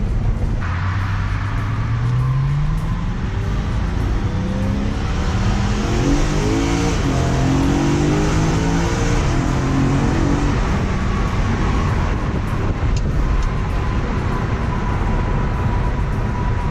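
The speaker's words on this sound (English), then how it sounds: "You get to hear that beautiful engine." A sports car engine revs and accelerates repeatedly, its pitch climbing through the gears, loud and close over steady road noise.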